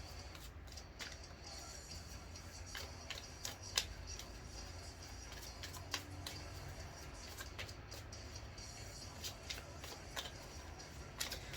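A deck of tarot cards is shuffled and handled in a quiet room, soft riffling with scattered light ticks and taps, faint and steady with no voices.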